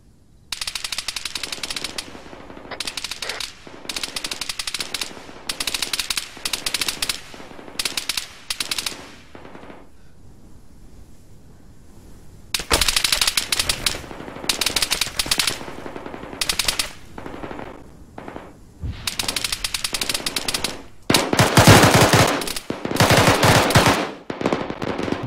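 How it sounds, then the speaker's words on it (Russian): Rapid bursts of automatic gunfire crackle in repeated volleys in the video game Arma 3, loud and close, with short pauses between long strings of shots. "Уж рядом стрельба."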